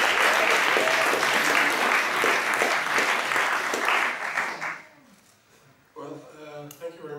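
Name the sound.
audience applause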